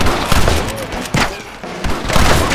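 Gunfire rings out in a town shootout with snipers at windows in Red Dead Redemption, heard as loud overlapping shots and booms in quick bursts, layered with shouting voices and a dense battle din.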